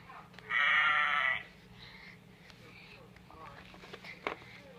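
A farm animal toy sounds one loud, steady electronic sheep bleat of under a second, then only soft handling and rustling noises follow.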